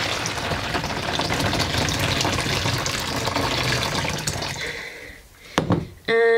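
Hot, not fully boiled water pours steadily into a bath for soaking an Elsa costume wig, a loud continuous rushing that thins out near the end, followed by a few brief clatters.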